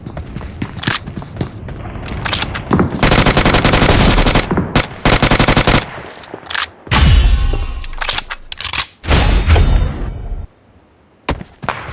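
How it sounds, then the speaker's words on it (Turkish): Loud bursts of automatic gunfire from the PUBG Mobile battle royale on the Erangel map, sustained rattling volleys broken by short gaps, with clanging metallic impacts and single shots near the end. "Biri şu alt telden sıkıyor."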